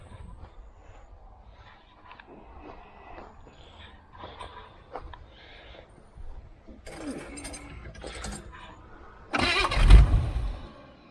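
A 1980 Camaro Z28 cranks over after fresh gas is added and then catches with a sudden loud roar near the end, following quieter clanks and shuffling in a garage.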